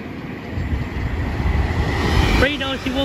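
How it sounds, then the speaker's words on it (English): An Avanti West Coast passenger train passes at Bletchley with a loud, rumbling rush that builds steadily over a few seconds, then a voice begins speaking at the end. "Avanti West Coast service from either Manchester or Liverpool to London Euston"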